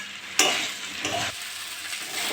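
Potatoes, beans, spring onion and beet sizzle in a frying pan while being stirred, a steady hiss with scraping stirs and a sharp burst of sizzling near the start, close and without talk.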